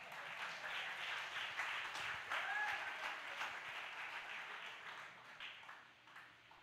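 A church congregation applauds during a JMCIM preaching service, a soft, scattered clapping that swells and then thins out toward the end, heard from a distance.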